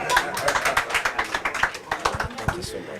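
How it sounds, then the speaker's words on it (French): A small audience at a Guinean community press conference in New York claps to welcome a speaker, a brief burst of irregular hand claps close by. "Applaudissez."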